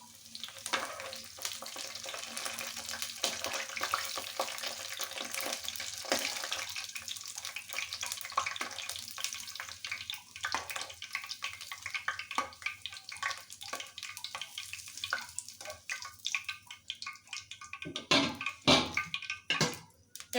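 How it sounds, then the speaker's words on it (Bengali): Cauliflower pakoras deep-frying in hot oil: a dense, continuous bubbling sizzle close up, with sharper crackles and a few clattering knocks toward the end and no talking. "একই প্রসেসে বাকি সবগুলো আমি ভেজে নেব।"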